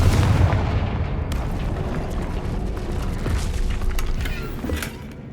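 In the video game Hogwarts Legacy, a Confringo fire-blast spell explodes with a loud, deep boom and rumble, then a long, crackling roar that slowly fades over several seconds.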